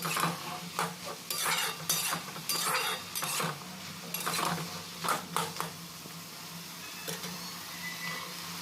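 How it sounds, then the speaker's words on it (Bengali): Ginger-garlic paste for a bitter gourd and potato curry is stirred in a pan, with repeated metallic spatula scrapes and clinks over a low steady sizzle, close by. "তো দু তিন মিনিট নাড়াচাড়া করার পর আদা রসুন বাটাটা দিয়ে দিতে হবে তারপরে আবার দু মিনিট মতো এইভাবে নাড়াচাড়া করতে হবে"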